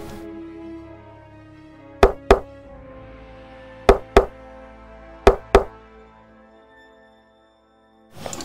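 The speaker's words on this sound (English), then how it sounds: "Let's go knock on the door and see." Knocking on a door comes in three close pairs of sharp, loud double knocks spaced a couple of seconds apart, set over a soft background music bed with no talking.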